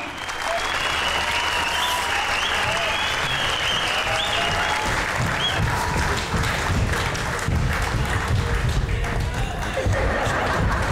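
An audience at a stage comedy show breaks into sustained applause, dense clapping filling the hall for about eleven seconds, with a presenter's voice and scattered laughter mixed in.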